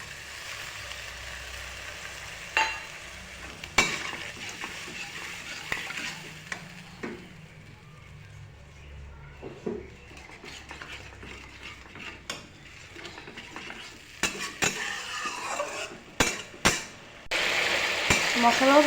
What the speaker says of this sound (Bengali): মশলাটা প্রায় ভাজা ভাজা হয়ে গেছে, তো আমি এখানে সামান্য জল দিয়ে দেব।